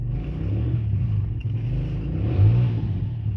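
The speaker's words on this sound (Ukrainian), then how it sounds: "Трошки у нас сусіди там газують" A car engine hums nearby and revs up briefly toward the end, a mid-pitched motor sound rising and falling.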